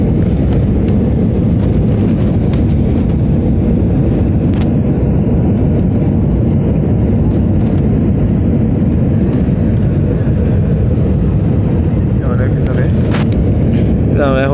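An airliner descends to land at Kolkata airport at night, heard from inside the cabin as a loud, steady engine and air roar throughout, with people talking over it.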